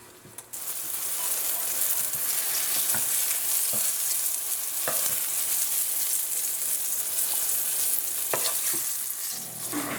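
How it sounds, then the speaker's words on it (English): Eggplant slices fry in hot oil over medium-low heat, giving a steady, close sizzle with faint crackles and a few soft clicks throughout, no talking. "this goes into your hot oil on medium low heat. And we're gonna fry these babies up until they're nice golden brown color."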